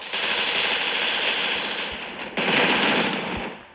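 An MP40 submachine gun firing in a video game, two long loud bursts of rapid automatic fire with a brief break between them, close and with no talk.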